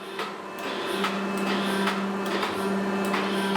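A 3E711V surface grinder reverses its cross feed, giving a steady mechanical hum with a low tonal drone and a few sharp periodic clicks and knocks as the table shifts.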